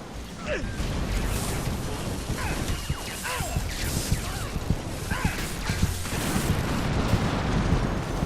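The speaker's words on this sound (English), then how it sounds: "There's a grenade." Chaotic gunfire and a grenade blast in the online shooter Loadout, sharp crashes and bursts layered over continuous game noise and effects, with a voice briefly present.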